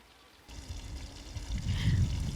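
Beer pouring into a glass at an outdoor wood kitchen, a steady gurgling stream that swells louder toward the end.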